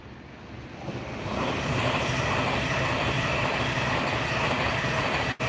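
A Pendolino train rushes past close by with a loud, steady roar and rail rumble that swells within the first second and holds, then cuts off abruptly at the end.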